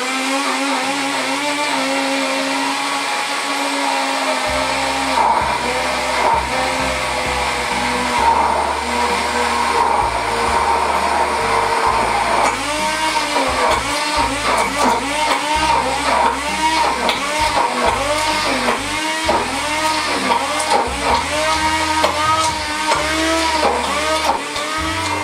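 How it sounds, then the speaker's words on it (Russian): An immersion blender whips egg yolk into homemade mayonnaise, a steady loud motor whir running continuously for about twenty-five seconds, its pitch wavering and pulsing as the blade churns the thickening mixture. "берем погружной блендер"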